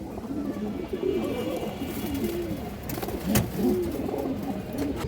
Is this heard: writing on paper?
no